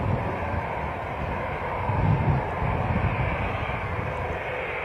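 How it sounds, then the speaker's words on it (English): A NetJets aircraft crossing the runway at Bristol Airport on a gusty day, its jet engines giving a steady, broad roar heard from a distance with wind noise, swelling slightly midway. "Looks like the net jets that came in is now going to cross the runway."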